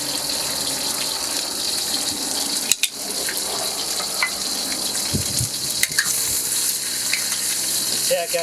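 Crab and garlic frying in a hot pan, a steady loud sizzle with occasional stirring clicks and scrapes, no voices.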